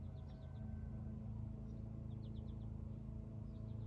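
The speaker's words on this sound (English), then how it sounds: "I've got a lawnmower going in the distance. There's birds singing in the trees." Birds chirp in short, faint bursts from trees in a backyard while a lawnmower drones steadily in the distance, its low hum running continuously underneath.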